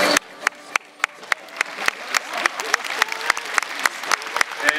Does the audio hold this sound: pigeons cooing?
no